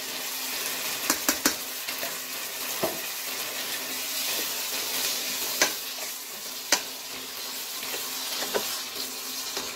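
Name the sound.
garlic and ginger added and stirred into frying onions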